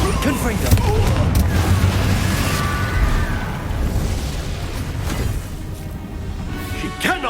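Spell blasts from Bombarda and Confringo burst in Hogwarts Legacy, booming crashes and pops layered over a dense, loud battle scene with music and shouting voices throughout.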